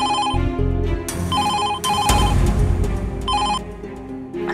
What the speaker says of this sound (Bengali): ফোনটা বাজে, ধর ধর ফোনটা ধর